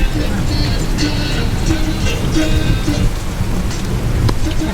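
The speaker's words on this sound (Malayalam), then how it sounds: "അപ്പോൾ അതിനുവേണ്ടി വന്നപ്പോൾ നല്ല മഴയാണ്." Heavy monsoon rain in Munnar pours steadily and loudly, a dense continuous hiss with occasional louder splashes.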